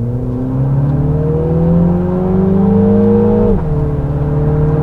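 A 2000 cc turbocharged car in sport mode accelerates hard, its engine note climbing steadily before a sudden drop at a gear change, then rising again, loud and close with no voices.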